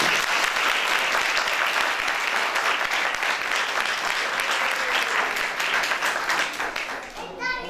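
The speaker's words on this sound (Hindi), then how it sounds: "एक बार फिर जोरदार तालियां।" Sustained applause from a church audience at a Christmas program in Lahore, Pakistan, a dense steady wash of clapping that fills the whole stretch before thinning at the very end.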